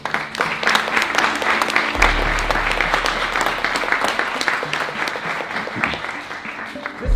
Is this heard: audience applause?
yes